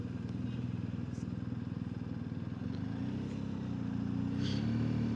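A motorcycle engine rumbles close by with a steady, pulsing throb as it rides across, and the sound swells slightly toward the end.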